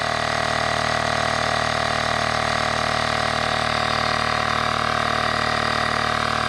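Kingfit cordless portable tire air inflator running steadily, a loud continuous motor-and-pump drone with a constant buzzing hum and no breaks.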